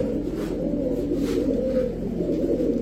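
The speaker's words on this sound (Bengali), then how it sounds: "ওই মিয়া ছাড়ার সাথে সাথে তো কবুতরের ডাক ছিল" A male giribaz high-flyer pigeon calls just after release, a steady low cooing drone that carries unbroken through the clip against a dense background hum.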